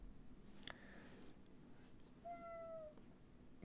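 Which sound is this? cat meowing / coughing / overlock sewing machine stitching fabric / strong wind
cat meowing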